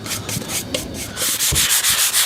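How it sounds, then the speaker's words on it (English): A sanding sponge lightly scuffs the finish on a wooden Eames LCW chair seat back, giving a close, dry rubbing rasp in short repeated strokes that grow louder and steadier toward the end. "take my sponge, just to lightly scuff it"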